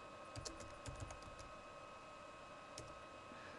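Quiet, close typing on a computer keyboard: a brief cluster of light key clicks, a pause, then one more tap, heard alone over a faint steady hiss.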